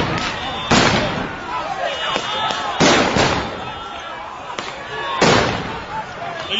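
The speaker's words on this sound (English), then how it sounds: "They're using flashbangs." Police flashbang grenades go off at a street protest, several sharp blasts spaced a second or two apart, with crowd noise and voices in between.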